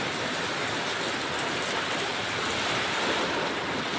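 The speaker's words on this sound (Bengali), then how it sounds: "ভীষণ পরিমাণে বৃষ্টি হচ্ছে" Heavy storm rain pours steadily onto a house with mud walls, a dense, loud, unbroken hiss of downpour close by with no voices heard.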